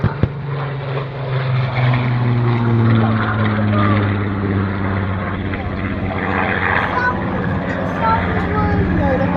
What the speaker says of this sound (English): They fly low orbits like the one the R4D is performing now